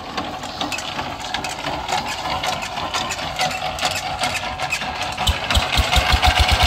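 A plowing machine's engine starts up and runs in a dry, dusty field, a steady mid-pitched rumble that grows into a quick, loud chugging beat near the end, close by and without talk.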